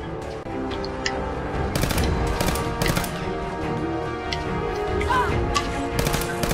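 A hardened snack rifle fires in the video game Fallout 4, giving loud, rapid bursts of gunshots with sharp cracks and a busy, crashing background throughout.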